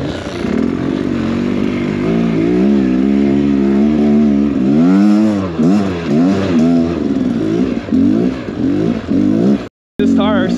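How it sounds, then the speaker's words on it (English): Two-stroke dirt bike engines on a muddy, rainy trail, revving and rising in pitch in repeated bursts, close and loud, with a brief cutout near the end. "Oh, I hear the two strokes ripping already."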